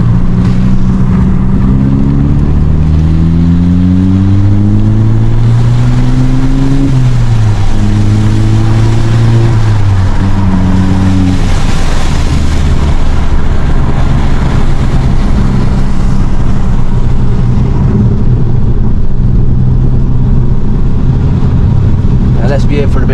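A VW Golf GTI engine drones steadily on a late-night drive, its pitch climbing and falling through gear changes, heard close from inside the car with continuous road and wind rumble.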